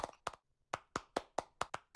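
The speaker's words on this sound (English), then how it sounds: "we have a great applause for you" Applause from a conference audience after a talk at Laval Virtual World 2020: about nine sharp, separate claps in an uneven rhythm, sparse and close, like only a few people clapping, with no voices.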